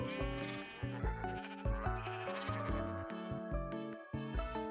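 Sheep bleating in the video game Minecraft, repeated calls over a busy layer of game music that fills the short stretch at a steady loudness.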